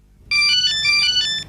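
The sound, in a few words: phone ringtone, boss calling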